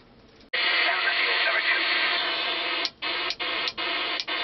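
Steady, loud broadband radio static hiss during a storm fills the clip, cutting out briefly a few times near the end before resuming.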